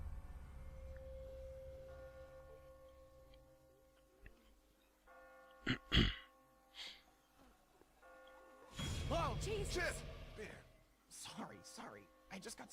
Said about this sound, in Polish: Ten dzwon.